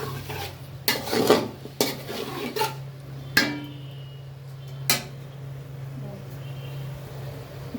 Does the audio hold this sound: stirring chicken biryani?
yes